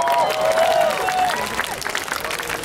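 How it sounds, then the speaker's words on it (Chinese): Audience at an outdoor music festival stage in Tamsui, New Taipei, applauding and cheering loudly after a vocal cue, the claps continuing briefly as the crowd noise settles. "掌声给自己鼓励一下"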